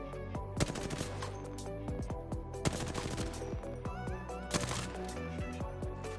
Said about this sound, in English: I will shoot a few more bursts to check how good the beginning is.